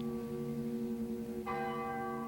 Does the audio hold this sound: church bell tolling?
yes